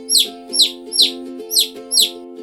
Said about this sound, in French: Dans le poulailler, les poules s'agitent déjà. Elles caquettent en cherchant leur grain.